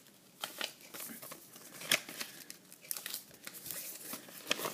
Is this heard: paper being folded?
yes